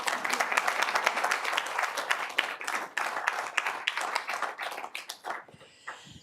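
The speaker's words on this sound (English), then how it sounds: "let's give a big applause for that." A small audience claps in quick, distinct hand strikes, close and lively, thinning out and tapering off toward the end.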